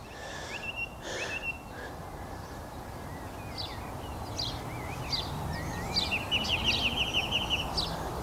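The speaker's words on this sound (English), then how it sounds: "That sounds like a song thrush. That's a song thrush. I love their song." A song thrush sings near a canal, giving bright whistled phrases that turn into a rapid run of repeated notes. Other birds call faintly around it over a low, steady outdoor hiss.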